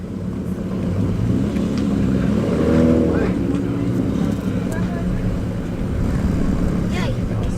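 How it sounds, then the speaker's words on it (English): A Triumph GT6 Mark III six-cylinder with a tuned exhaust rumbles loud and close at an outdoor classic car show, a deep steady note that swells in the middle, with people talking nearby. "Triumph tune exhaust."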